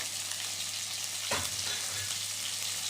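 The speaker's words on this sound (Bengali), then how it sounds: "আমাদের মাছটা ভাজা হয়ে গেছে প্রায়" Pieces of katla fish frying in oil in a pan, a close, steady sizzling hiss with a brief sharper burst partway through as the fish is moved or stirred.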